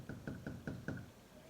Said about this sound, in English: suddenly there came a tapping, as of someone gently rapping at my chamber door